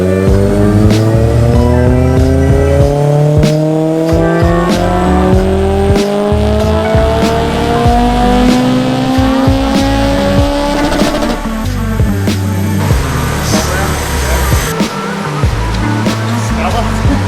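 A tuned car with a Skunk2 intake revs hard through its gears on a dyno. The engine is loud and rises in pitch steadily, then backs off near the end.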